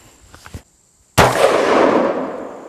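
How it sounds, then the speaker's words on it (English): A single loud, sharp gunshot from a modern sporting rifle cracks close by at an outdoor shooting event and then rolls off in a long decaying echo. Faint quiet sounds come just before it. "now I'm going to shoot this smaller gun, a modern sporting rifle."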